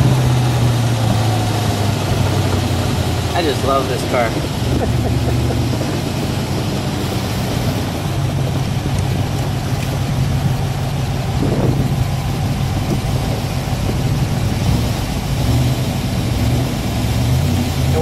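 Original blue 1964 Shelby AC Cobra with a 289 V8, running with a steady low rumble that carries on throughout, fairly close by, with a brief spoken remark over it.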